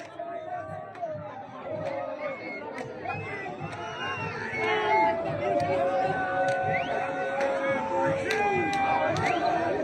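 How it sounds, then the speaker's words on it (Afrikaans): Rugby crowd at a Jeffrey's Bay match against the Brumbies cheers and chatters steadily in the final seconds, a dense, sustained roar of voices and shouts that swells louder midway through. "Wat 'n toejuiging sing daar"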